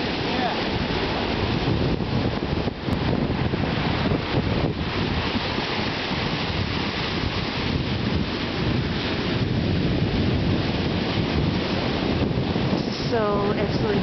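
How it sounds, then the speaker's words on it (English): Strong ocean surf at Tucker's Point Beach, a loud, continuous broadband roar of crashing waves with wind buffeting the microphone throughout. "Look at how strong those waves are."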